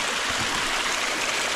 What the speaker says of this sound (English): It's filling up with hot water pretty quick.